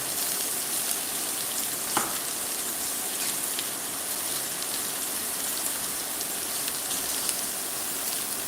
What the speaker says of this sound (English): we'll go ahead and put the Spam in with them. Make sure the Spam finds some room at the bottom of the pan there.